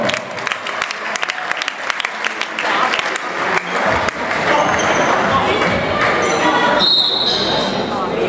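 Crowd applause at an amateur French basketball game rises during a substitution, with dense clapping over gym noise and a few sharp squeaks, and an announcer speaking over it.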